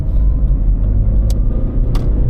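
A car engine pulling hard in second gear with the throttle floored, a loud, close, steady low rumble from inside the cabin, with a couple of brief clicks and no speech.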